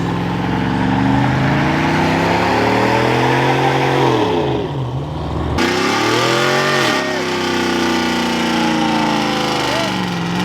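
A V6 truck engine revs loudly at a spring truck show, with rising and falling throttle sweeps over a rumbling crowd-filled background and other engines nearby; people talk and shout throughout.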